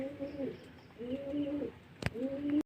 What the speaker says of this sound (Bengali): তো বন্ধুরা আর এক জোড়া পায়রা নিয়ে নিয়েছি